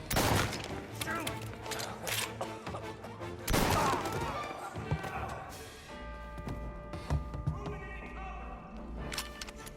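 Gunfire in a 1933-set shootout in Mafia: Definitive Edition, scattered shots and bursts mixed with thuds and impacts, steady and moderately loud throughout, with game dialogue and ambient sound underneath.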